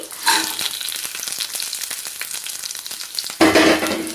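Roasted peanuts frying and being stirred into a poha (flattened rice) mixture in a pan, with steady loud sizzling, scraping stirs throughout and a sharp burst of fresh sizzle near the end as more goes in.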